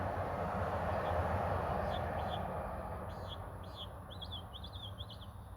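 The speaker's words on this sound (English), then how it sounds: "The birds are sounding the alarm" Birds give repeated short alarm chirps, faint at first and then in quicker bursts, above a loud rumbling broadband background noise.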